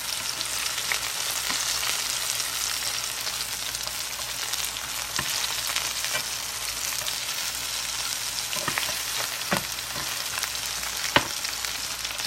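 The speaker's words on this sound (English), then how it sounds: "Our sausage is frying up, starting to get brown." Sausage browning in a pan, a constant close sizzle and crackle with scattered louder pops and a few utensil scrapes, no voices.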